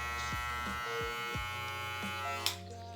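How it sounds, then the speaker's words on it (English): Working on a mid bald fade, an electric clipper with its blade set halfway open buzzes continuously up close, its tone sagging with repeated strokes through the hair and ending in a brief brushing clatter. "Now you're about to open up your clipper about halfway"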